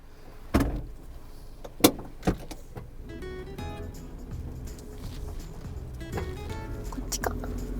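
A kei camper car gets ready for a long drive: a few sharp door thuds and clunks sound close inside the cabin, followed by a steady low vehicle rumble with small rattles and a motorised whir.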